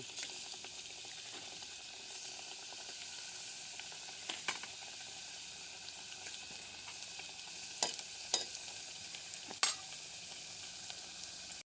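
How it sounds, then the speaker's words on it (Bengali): Pitha cakes deep-frying in hot oil give a steady, bright sizzle with occasional sharper pops and crackles; no one speaks. "এখন পিঠাগুলো আমি ডুবো তেলে ভেজে নিব।"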